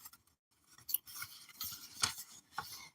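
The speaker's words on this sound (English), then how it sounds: "So I'm going to go ahead and cut this up" Paper labels being cut up with scissors, a quiet series of crisp snips and rustles in an irregular rhythm, close and faint.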